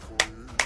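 Two sharp, close hand claps, evenly spaced about four tenths of a second apart, over a faint background.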